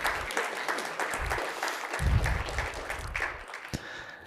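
Scattered clapping from an audience at a tech conference talk, several hands striking unevenly at close range, building briefly then thinning out.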